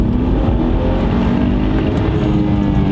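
A BMW 335i E90 with N55 engine and Pure Stage 2 turbo roars continuously at high revs under full throttle, a dense throaty drone with no break.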